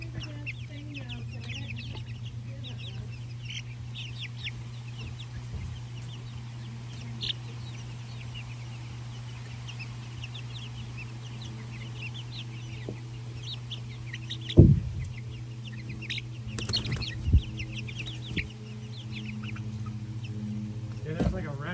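Chickens cluck and call in short, irregular bursts over a constant low mechanical hum, with a few louder knocks and bumps partway through; a voice may be faintly present.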